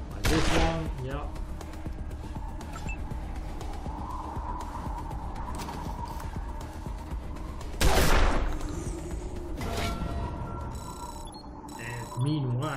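Squad gunfire in the video game Wasteland 2, with bursts of shots at the start, around the middle and near the end over a constant game ambience and mechanical clatter.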